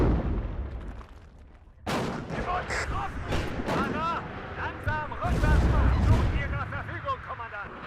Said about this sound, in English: Oh, that artillery.